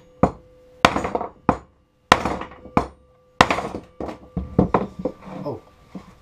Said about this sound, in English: I'm just going to try to hammer the crap out of it and see.